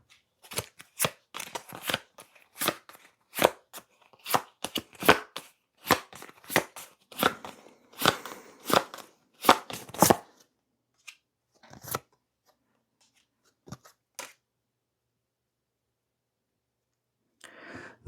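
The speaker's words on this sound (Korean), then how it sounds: "카드 뽑아볼게요" Tarot cards are shuffled and drawn at close range: a brisk run of crisp flicks, riffles and slaps for about ten seconds, then a few scattered taps and a last sharp snap.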